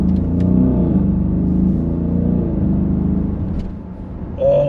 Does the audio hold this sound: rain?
no